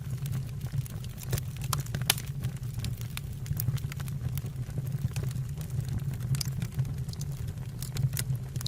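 Wood fire crackling inside a two-pass brick stove with a fireplace door: sharp, irregular snaps and pops scattered over a steady low roar of burning, close by and with no talking.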